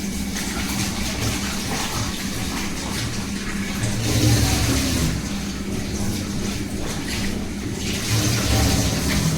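Potatoes being washed under running water at home: a steady, loud rush of water splashing and gurgling continuously, with slight swells in intensity and faint handling noises beneath.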